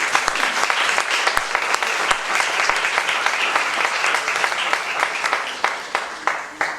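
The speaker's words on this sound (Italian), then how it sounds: "Mi preme salutare con un calorosissimo applauso la mia carissima amica" Warm audience applause at a gathering in the Molino Excelsior in Valderice, dense continuous clapping from many people, with a few sharper individual claps standing out toward the end.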